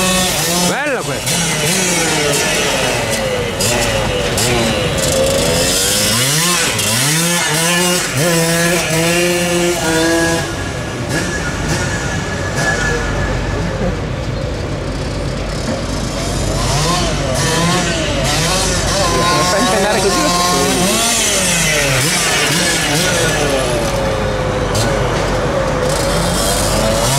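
A Puch 75 moped's small two-stroke engine revs up and down repeatedly, rising and falling in pitch, loud and close, with some voices faintly underneath.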